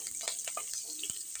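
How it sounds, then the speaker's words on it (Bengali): Green chillies and black cumin sizzling in hot oil in a wok, a steady bright hiss with scattered crackles and pops, close and alone. "এবারে কাঁচা লঙ্কাটা একটু ভাজা ভাজা হবে"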